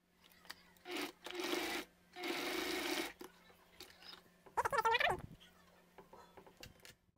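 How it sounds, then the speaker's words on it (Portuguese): A domestic sewing machine stitches along the edge of a fabric bag handle, two steady runs of close motor whir separated by pauses, then brief fabric handling and rubbing sounds. "vou passar uma costurinha aqui só na beiradinha da alça"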